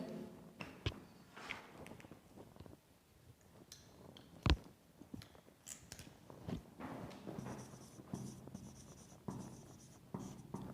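Chalk or marker writes on a board during a physics lecture on oscillation, giving scratchy strokes and taps in irregular bursts, fairly close, with a sharp knock partway through and no speech.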